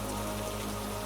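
Steady rain falls on the surfaces of a town, a dense, even patter heard up close without pause.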